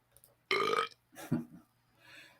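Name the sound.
human burp sound effect from a stock sound library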